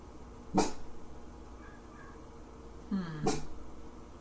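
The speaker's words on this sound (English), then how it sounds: "Somebody has a dog that's having a fit." A dog gives two sharp, agitated barks or yelps about three seconds apart, at middling distance over a steady background hum, with a faint whine between them.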